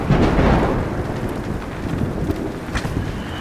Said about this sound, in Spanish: Vuelve la tormenta